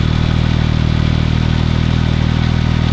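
A Porsche 911 Turbo idles close by with a steady, low, even engine drone and a faint mechanical clatter that stays constant throughout, with no talking.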